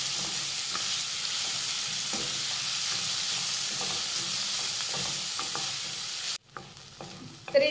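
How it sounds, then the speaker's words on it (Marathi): Finely chopped onions sauté in a hot pan for a spiced vermicelli upma, with a steady close sizzle and the scrape of stirring. The sound cuts off near the end and a few quieter clinks follow. "आता हा कांदा सुद्धा आपल्याला व्यवस्थित परतून घ्यायचा आहे।"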